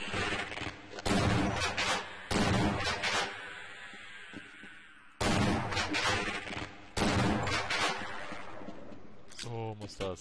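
Heavy weapon fire in Half-Life: several long, loud sustained bursts of rapid shots separated by brief pauses, ending with a clicking mechanical reload-like rattle, with someone talking intermittently over it.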